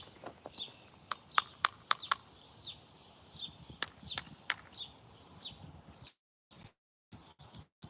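Brown sparrows chirp in a series of short, sharp tweets, some in quick bursts and others spaced apart, moderately close against a faint outdoor background before fading out near the end.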